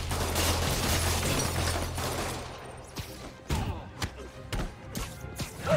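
Explosions and heavy impacts in Spider-Man on PS4 come as a rumbling mix at first, then as a series of sharp separate thuds and bangs spaced about half a second apart, loud and close.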